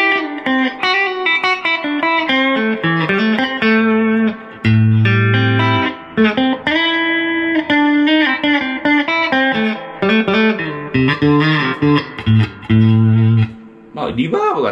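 Electric guitar played through a Fender Tone Master Princeton Reverb amp with the tremolo on, loud melodic phrases and chords with a pulsing shimmer, then a few low sustained notes, continuous and alone.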